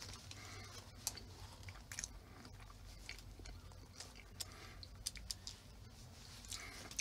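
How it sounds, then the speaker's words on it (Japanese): Castella sponge cake being chewed close up, soft moist mouth sounds and small clicks over a steady faint background hiss, quiet and with no talk. "カステラをもぐもぐ食ってます。"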